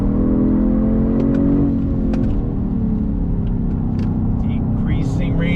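A 2022 Genesis G70 sport sedan with an 8-speed automatic works hard on a race track, its engine droning loud and steady with pitch shifts as it downshifts under braking, and someone talks over the noise.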